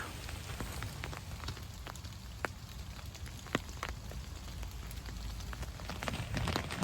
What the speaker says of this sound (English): there's no let up to this rain.